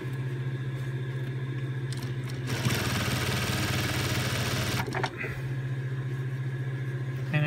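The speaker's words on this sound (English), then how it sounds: "edge stitch this on" A sewing machine runs in one steady burst of about two seconds while edge stitching a fabric bag 1 centimeter from the edge, set against a constant low background hum with no talk.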